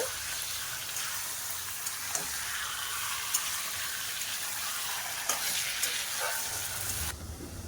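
Marinated chicken frying in a pan for a mango chicken curry, a loud continuous sizzle with occasional pops and stirring clatter, no talk.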